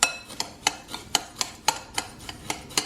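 Panko breadcrumbs mixed in a bowl with a utensil, giving a steady, even run of about ten sharp clicking strokes, close and fairly quiet, with no voices.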